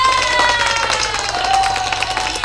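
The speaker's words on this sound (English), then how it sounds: "Go ahead and give her a round of applause" A business conference audience claps and cheers for a speaker, a loud sustained crowd roar of applause with a few whoops on top.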